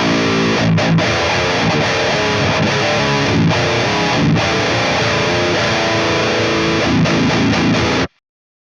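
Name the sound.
crunchy distorted electric guitar through amp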